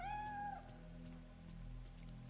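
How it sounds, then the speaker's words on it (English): A single drawn-out cat meow from the horror video game Fatal Frame 3 rings out clearly for about half a second over a quiet, low-humming game ambience with faint dripping ticks. "Oh, there's the kitty."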